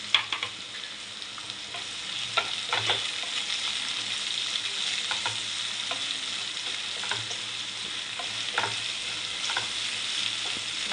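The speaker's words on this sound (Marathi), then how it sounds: "आपण आता कांदा पण लाल होईपर्यंत आपल्याला व्यवस्थित परतवायचं" Onion sautéed in a pan until reddish for a pumpkin and chilli vegetable dish, with a steady close sizzle and occasional spatula stirs and pops, no talking.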